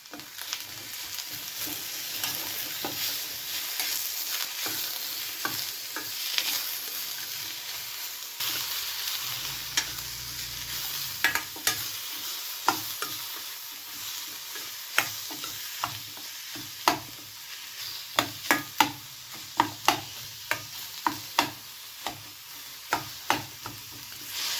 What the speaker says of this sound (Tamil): 2 தக்காளி நறுக்குனது அதையும் சேர்த்து நல்லா வதக்கிக்கிறேன்